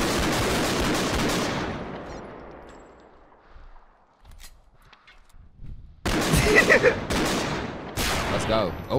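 Rapid gunfire bursts from a tactical shooter video game, a fading volley early on, then dense, loud repeated shots crackling close together in the final seconds after a quieter lull.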